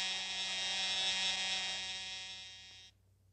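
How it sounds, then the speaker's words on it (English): A hockey period-end buzzer in a cartoon blares as one steady, loud electric tone for nearly three seconds, then cuts off abruptly into near silence. "And there's the buzzer ending the first period."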